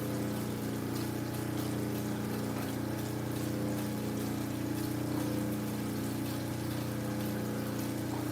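Water runs steadily from a tap or pump at a gem-extracting and jewelry-making workbench, a continuous low rushing flow with a faint hum and no voices.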